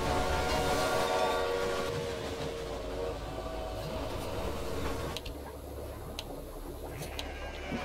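Train traffic in the rail-management game Railway Empire: a dense, steady rumble of moving trains with rolling wheel noise, brief horn-like tones and a few sharp clicks near the end, continuous and fairly loud throughout.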